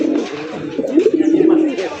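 A fancy rajgolla pigeon with feathered feet coos close and loud in a low, rolling, throaty burble lasting a couple of seconds.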